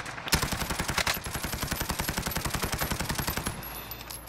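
Rapid automatic gunfire from a weapon in the Call of Duty video game, a steady stream of about twenty-five close, loud shots over three seconds that cuts off abruptly and leaves quieter game ambience behind.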